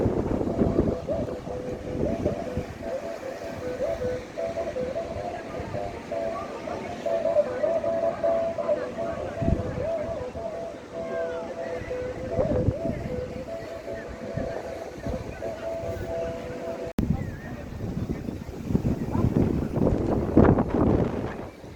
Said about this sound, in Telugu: ఏం గాలి వస్తుందంటే ఇక్కడ అసలు మామూలుగా లేదు